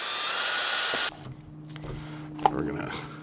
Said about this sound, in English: Let's try to screw these in with the drill.